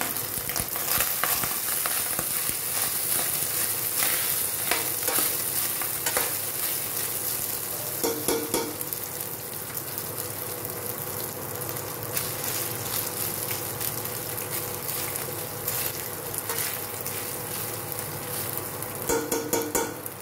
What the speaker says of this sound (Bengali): এরপর আমি আস্তে আস্তে ভাতগুলো দিয়ে দিচ্ছি, যেটা করে রেখেছিলাম আমি।